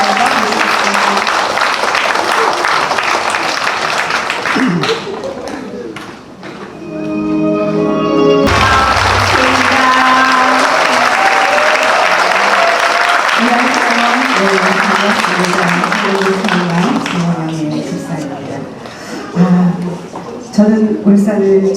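Loud applause and cheering from a large audience at Korea's 17th Milal Night event, rising as performers enter, with music from an intro video and a voice talking through parts of it.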